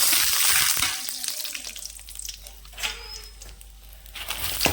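Dried red chillies sizzle and crackle in hot oil in a pan, a close, bright hiss with scattered pops that tapers off and then flares up again at the end.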